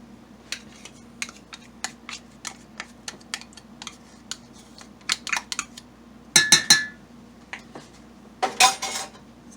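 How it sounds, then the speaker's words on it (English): A whisk mixes Dijon mustard into a mixture in a bowl for chicken cordon bleu, making a series of light clicks and taps against the bowl, then two louder bursts of rapid clattering whisking, close and crisp. "we're going to add 2 tablespoons of Dijon mustard, and we're going to whisk that in too"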